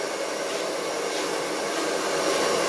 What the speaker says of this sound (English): I'm going to blow dry this section.